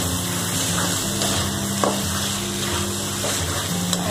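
Frozen green peas sauté in a pan with a steady, soft sizzle and occasional stirring scrapes, close and moderate in level, with a low hum underneath and no talking.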